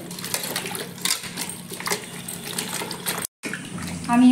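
Pieces of ash gourd (chal kumro) are rubbed and washed by hand in water, giving continuous close sloshing and splashing with a brief silent gap just before the end.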